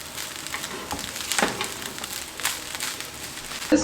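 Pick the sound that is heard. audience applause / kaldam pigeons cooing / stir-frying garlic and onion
stir-frying garlic and onion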